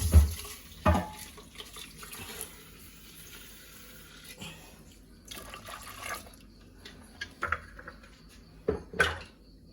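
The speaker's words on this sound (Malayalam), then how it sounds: "മീൻ ഇങ്ങോട്ട് കഴുകുന്നതാണ്." Tap water running while fish is washed in a sink, with splashing, dripping and clinks of pots and utensils, a few sharp knocks standing out.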